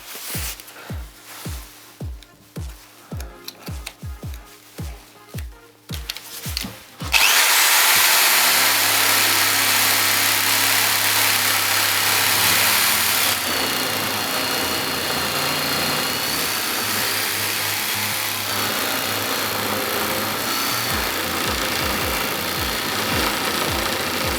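An APRO power jigsaw runs loudly and continuously, a harsh buzzing whine, after several seconds of rhythmic mechanical thumping at the start.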